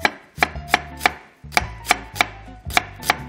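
A knife cuts through an onion into thin strips on a cutting board for abalone porridge and stir-fried zucchini. Crisp, close chopping thuds come in quick uneven bursts with short gaps between them, and no talking.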